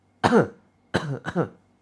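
Three short coughs and throat-clearing sounds, one alone followed by a quick pair, close and fairly quiet, with near silence between them.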